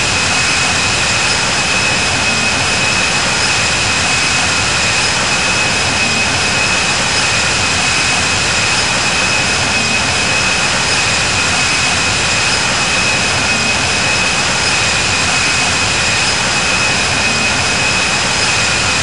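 Airbus A330-200F cargo jet engines at takeoff thrust in the flight simulator game Infinite Flight, a loud, steady roaring jet whine with a constant high tone throughout.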